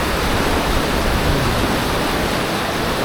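A steady, loud rush of fast-flowing water, continuous and close, with no other sounds.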